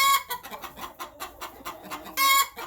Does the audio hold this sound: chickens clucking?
yes